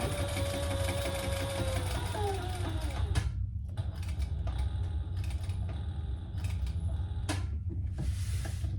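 A sewing machine runs on a tote handbag, whirring steadily up close, then halting in several short stop-and-start bursts with mechanical clicks between stitches.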